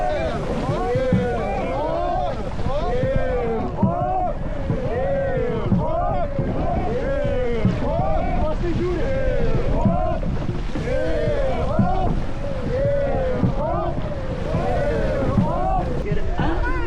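Rowing boats move off at a race start during a sports games event in Palanga, with steady water and wind noise under loud, rhythmic shouted calls that pulse about twice a second throughout.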